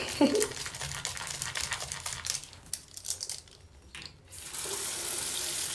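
Tap water runs into a sink over makeup brushes being rinsed, a steady splashing hiss broken by brief clatters and handling noises before the stream surges fuller near the end.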